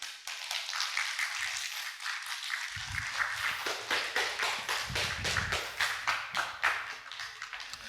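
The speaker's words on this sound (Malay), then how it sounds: "Sila beri tepukan gemuruh kepada Dr." An audience breaks into applause, many hands clapping in a dense, steady patter that grows fuller partway through and continues throughout.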